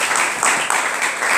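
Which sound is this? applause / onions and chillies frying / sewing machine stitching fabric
applause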